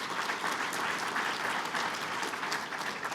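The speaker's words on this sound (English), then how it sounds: "So if you can give them another round of applause," Steady, dense applause from an audience at a small business policy event, sustained and fairly loud throughout with no voices over it.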